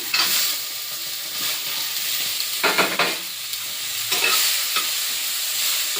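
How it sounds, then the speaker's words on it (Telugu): Tomatoes tipped into a hot pan while cooking Indian-style, with steady sizzling frying and repeated scraping stirs that swell in short bursts over about six seconds, no voices. "నెక్స్ట్ టమాటా వేసేస్తున్నాను."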